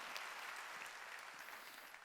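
A church congregation applauds during a Sunday worship service: a faint, steady wash of many hands clapping, heard distantly and evenly for a couple of seconds without a break.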